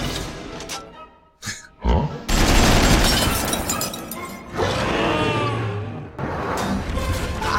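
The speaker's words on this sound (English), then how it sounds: "he's got 2 machine guns popping out of his pooper" Cartoon machine-gun effect from Astro Boy's butt-mounted guns: loud, dense rapid-fire bursts with sharp cracks, starting after a brief pause and roaring almost continuously to the end, with a short break near six seconds.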